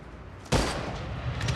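Gunfire in the video game Unkilled, a sudden loud burst that breaks in partway through, followed by a dense, sustained rattle of rapid shots over a constant background rumble.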